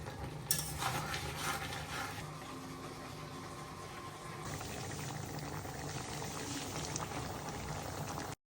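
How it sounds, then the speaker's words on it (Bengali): Shrimp curry simmering and boiling in a pot after broth is poured in, a steady bubbling, liquid hiss at moderate loudness with a brief splash near the start, outdoors in a park in Paris. "তারপরে সামান্য একটু ঝোল দিয়ে দিব।"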